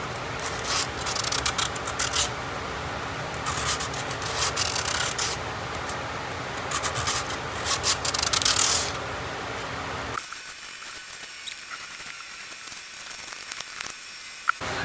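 Zebrawood Les Paul-style guitar body being hand-sanded with 120 grit sandpaper, a steady close rubbing rasp for about ten seconds before it stops and leaves near silence.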